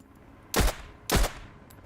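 Two sharp gunshots from an SVD rifle in the survival game Road to Vostok, loud and close, about half a second apart, each with a short tail, against a quiet background.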